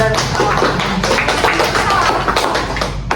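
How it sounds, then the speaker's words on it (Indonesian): A classroom of students claps together in a guidance and counseling class: a dense, continuous patter of many hands, close and loud. Bits of voices show faintly underneath. "Tepuk tangan, Nak"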